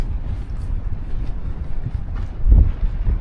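Gusty wind in Marmaris in December buffets the microphone with a steady low rumble, swelling into a stronger blast near the end.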